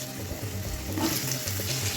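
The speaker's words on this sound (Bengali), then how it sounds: "আলু আর কাঁচা লঙ্কা দিয়ে দিয়েছি, ভাজা হতে থাকুক।" Potatoes and green chillies frying in hot oil in a pan, a steady, even hiss and sizzle with no voices over it.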